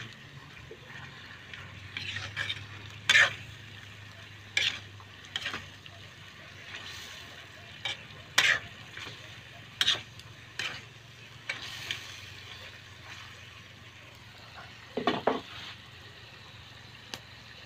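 Chicken adobo with potato and chili is stirred in a pot, with sharp scraping clanks of the spoon against the pot at irregular intervals over a faint low bubbling simmer, and no talk.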